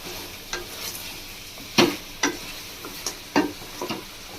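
Onions frying for a rustic mutton curry, stirred in a pan with a faint sizzle beneath a few sharp scraping strokes of the spoon spaced through the clip, near and fairly quiet, with no voices.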